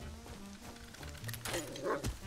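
A dog barking inside a video game, a few quiet yipping barks near the end, faint and brief under low background game sound.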